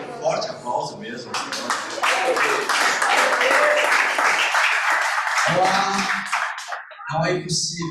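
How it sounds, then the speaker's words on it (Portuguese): Congregation clapping during a celebration church service, loud enthusiastic applause rising and sustained for several seconds, mixed with voices and some music-like tones, tapering near the end. "Mas dê um forte aplauso mesmo."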